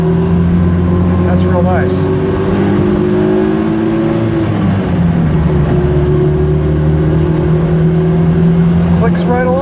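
A Honda N600 revs up on an acceleration run, its small engine note rising, dipping at a gear change, then climbing again, loud and close, with someone speaking briefly over it.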